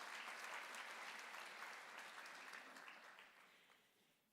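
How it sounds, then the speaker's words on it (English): An audience at a state conference claps steadily and evenly, thinning out toward the end; the sound is quiet and distant. "Yes, it was worth a clap"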